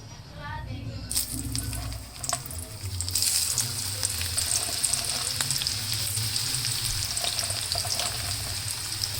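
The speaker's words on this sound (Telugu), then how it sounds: "ఆయిల్ హీట్ అయ్యాక కాకరకాయలు వేసుకుంటున్నాను." Bitter gourd pieces dropped into hot oil, a quiet start giving way to a sudden loud, dense crackling sizzle that rises and then holds steady and close, with occasional light rattles.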